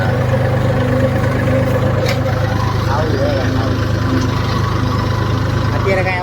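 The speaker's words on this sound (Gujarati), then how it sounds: "ટ્રેક્ટર ચાલુ ટ્રેક્ટર હોય એટલે જરાક અવાજ" Tractor engine running steadily in a residential society, a continuous low rumbling drone that stays loud and constant throughout, with faint background voices.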